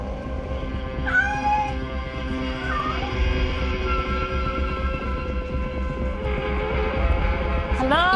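A cat meows repeatedly on a terrace, its rising and falling cries clear and close over a steady background of low rumbling noise, with a final sharp meow at the end.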